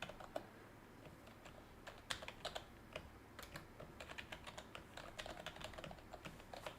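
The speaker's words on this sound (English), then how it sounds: "You have good typing skills." Fingers type on a computer keyboard, producing quiet, irregular clusters of light key clicks with brief pauses and some sharper taps, with no talking.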